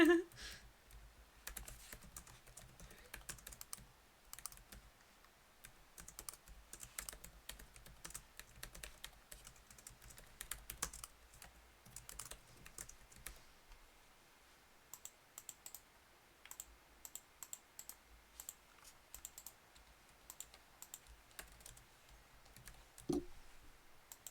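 Steady typing on a computer keyboard, including arrow-key presses, with clustered quiet clicks and brief pauses throughout, close and fairly soft, with no talking.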